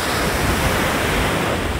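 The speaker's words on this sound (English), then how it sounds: "the body of water you see out behind me is actually the Atlantic Ocean" Atlantic Ocean surf off a Caribbean island, heard as a steady broadband wash of breaking waves close by, mixed with some wind noise on the microphone, with no voices.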